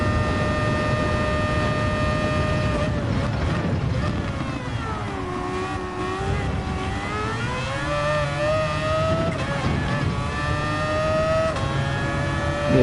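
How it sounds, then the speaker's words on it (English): High-pitched engine whine of a 1980s Formula 1 car in the Gran Turismo 7 video game, rising and falling through gear changes, sustained and loud, with several engines overlapping like a race in progress. "That car also sounds amazing too. The Formula 1 car, the old 80s Formula 1 car."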